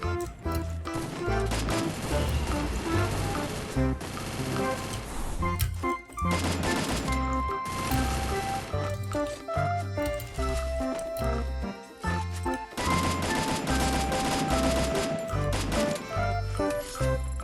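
Sustained gunfire from the battle-royale game Free Fire, loud and close, in dense rapid volleys that break off briefly before resuming, layered with game music and effects.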